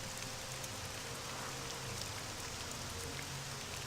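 Rain in an Elder Scrolls game, Morrowind, heard as a steady, faint hiss of falling drops, unbroken and even throughout with no voices.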